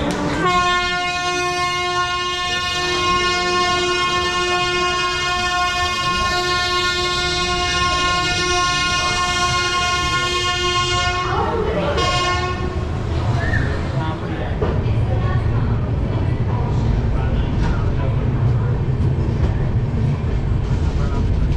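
A Coimbatore–Chennai Egmore Superfast Express pulls away with a long, loud horn blast, then rolls on as a steady rumble with rhythmic clickety-clack of wheels on the rails.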